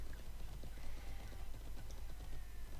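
Horse hooves clip-clop in the online horse-riding game Alicia Online, a steady rhythmic patter of hoofbeats at moderate volume over a busy game soundscape, with no talking.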